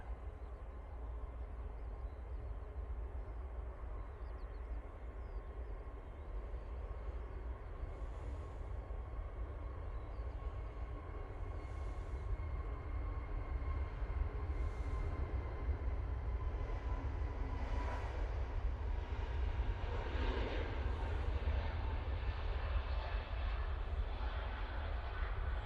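Airliner departing Manchester Airport for Ibiza, a distant, steady jet engine roar that slowly swells over nearly half a minute, heard from outside with faint ambient noise.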